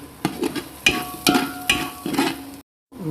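Masala spices fry in a hot pan while a spoon stirs them, giving a close, steady sizzle broken by several sharp scraping strokes, then a brief silence before the frying resumes.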